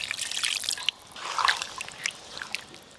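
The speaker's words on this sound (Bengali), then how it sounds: "জলটা এখন একটু বেশি দিলাম" Water pours and trickles into a pot of potato and chicken curry, with close splashes and drips in short bursts that die back between pours.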